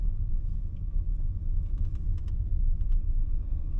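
A car on the road to Loch Doon on a frozen morning, with a close, steady low engine and road rumble throughout, a few faint clicks over it.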